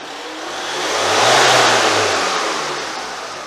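A motorhome engine revs up, swelling to a loud roar around the middle, then eases back down to a steady rumble.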